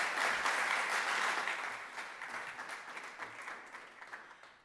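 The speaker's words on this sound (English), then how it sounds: "Please give her a warm applause." A lecture audience claps steadily, moderately near, then the applause gradually thins and fades out.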